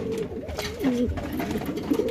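White Lakkha pigeons coo in low, rolling, repeated calls close by, the warbling notes overlapping continuously through the short stretch.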